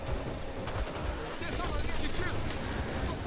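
Gunfire and an exploding barrel in the video game Back 4 Blood, a dense, loud burst of shots and blast noise filling the clip, with voices talking over it.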